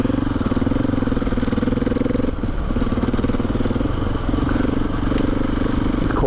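A 650 adventure motorcycle engine drones steadily and loudly at close range, with a brief dip in the middle before the rider pulls past on a sandy road.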